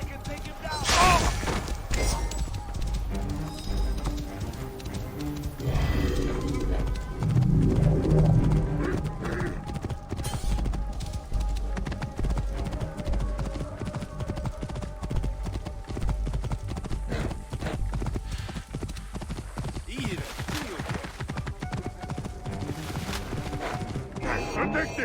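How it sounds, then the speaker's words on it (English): In the video game Assassin's Creed Origins, a horse gallops with a continuous rhythmic clip-clop of hooves, joined by in-game voices, battle noises and bird calls. "This must be Mered's horse"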